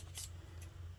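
Scissors snip a tiny square from a small piece of paper, two short crisp cuts close by with a quiet pause between them.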